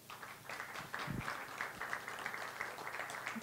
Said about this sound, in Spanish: despedimos una vez más a Laura con un aplauso